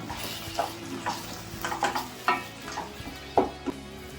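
A spoon stirs a soaked, ground paste mixture in a cooking pot for tomato chutney, giving irregular soft scrapes and clinks roughly every half second over a faint sizzling background.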